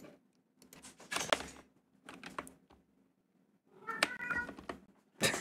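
A pet cat meows repeatedly in a quiet room, several drawn-out calls separated by pauses, close and fairly loud with no talking.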